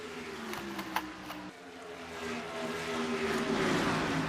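Stock cars in an oval racing game braking into turn three give off several engine drones that drop in pitch and then build again, a steady layered roar over a low background.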